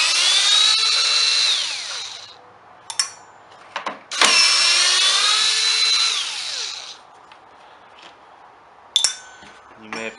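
Power tool whirring in two long bursts while backing out the four outer cover bolts on a STIHL BR430 backpack blower during teardown, with short metallic clinks between and after the runs.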